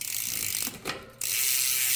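A bicycle rear derailleur is adjusted and shifted up one gear, making a brief mechanical ratcheting click against steady background hiss, with no one talking.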